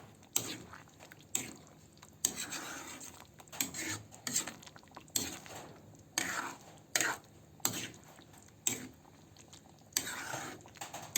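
A spoon stirs a pot of dinuguan, pork blood stew, just after calamansi juice goes in, giving repeated sharp metallic scrapes and clinks against the pot in an uneven rhythm, close but fairly quiet.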